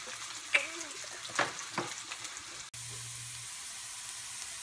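Onions frying in a pan give a soft steady sizzle, with a few stirring scrapes and clinks near the start.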